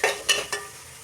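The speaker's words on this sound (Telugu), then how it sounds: "ఇదే తెపాల్లో కట్ చేసి పెట్టుకున్న ఆనియన్స్ యాడ్ చేసుకోవాలి. వీటిని బాగా వేయించుకోవాలి." Chopped onions hit a hot pan for a masala egg curry, giving three quick crackling sizzle bursts close by that settle into a softer steady hiss.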